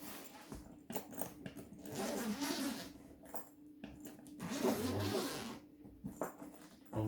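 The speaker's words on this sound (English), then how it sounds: "Unzip it." A zipper on a drone carry case for a DJI Mavic Air 2 is pulled open in a few short rasping strokes, close and fairly quiet, with handling rustles between pulls.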